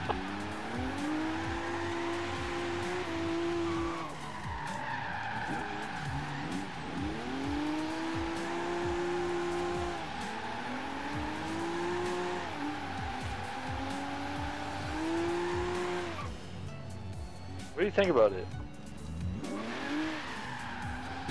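A drifting car in the Forza Horizon 3 racing game revs and wails steadily, its engine rising and falling with long tire squeals, under brief casual talk from players.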